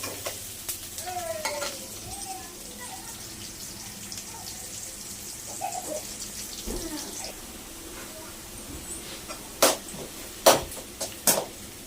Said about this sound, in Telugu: ఆనియన్స్ అంతా ఇలా నీట్గా ఫ్రై చేసుకోవాలా